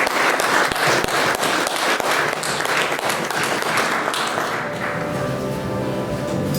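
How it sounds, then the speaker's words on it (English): Audience in a hall breaks into steady applause, dense clapping that stays loud and even before thinning toward the end. "Let's give him a round of applause."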